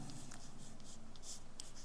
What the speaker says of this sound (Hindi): चलिए लिखते हैं।